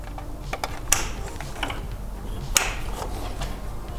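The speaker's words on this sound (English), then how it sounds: "now we got the intake manifold all bolted up so we can plug in our injectors, all 8 of them." Fuel injector electrical connectors being plugged onto a Nissan Titan V8 engine, giving two sharp, close plastic clicks about one and a half seconds apart, with softer handling clatter between them.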